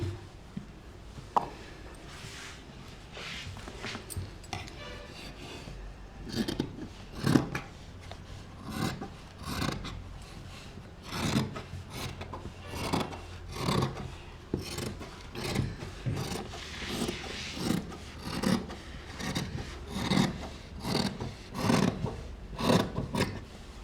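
Scissors cut through cloth while shaping a girl's nightie, a steady series of rasping, crunching snips that repeat close up and grow more regular toward the end, with no talking.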